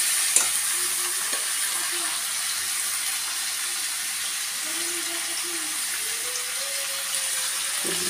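Free-range desi chicken meat sizzles in a pan with already fried potato and onion, a loud, constant frying hiss with occasional stirring scrapes and no talking.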